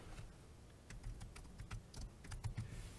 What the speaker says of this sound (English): we're going to type in Snapraid sync